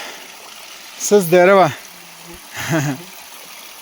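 A steady low rush of cold flowing mountain water runs underneath throughout while someone speaks a couple of short phrases over it.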